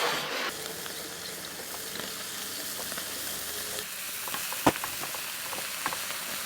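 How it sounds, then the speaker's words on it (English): Halloumi frying in a pan at a campsite dinner, giving a steady, close sizzle and hiss with small pops and one sharp crackle partway through. "So I'm going to fry that halloumi up in the fry pan."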